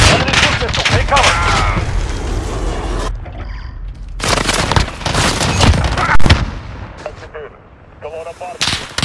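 Enemy missile strike in Call of Duty: Modern Warfare multiplayer on a Hackney Yard domination match, heard as loud booming blasts amid heavy gunfire, with sharp bursts separated by brief lulls and radio-style voice chatter mixed in.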